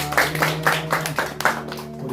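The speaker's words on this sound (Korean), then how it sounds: "주님께 영광의 박수 드립니다." A church congregation claps in praise to the Lord, a few loud rhythmic claps landing in a steady beat over a sustained musical tone, close and full.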